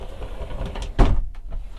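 A sliding bathroom door at the rear of a 2022 Entegra Ethos Li 20TL B-Class RV is pulled across, giving one short, fairly close rolling thud and slide over low background rumble.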